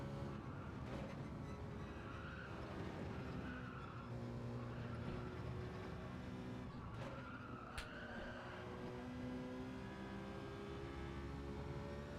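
Race car in Gran Turismo 7 braking hard into a corner, tires squealing and skidding in long wavering tones over a steady engine drone, with a sharp knock near the end.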